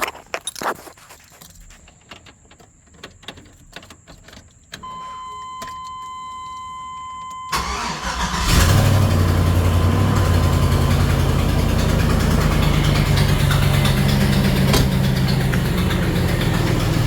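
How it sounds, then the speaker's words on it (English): Keys jingle briefly, then the LS-swapped engine of an old Chevrolet Suburban cranks and catches around the midpoint, settling into a loud, steady idle that runs to the end; the truck has an exhaust fault. "oh, wait a minute, I ain't cranked it up yet."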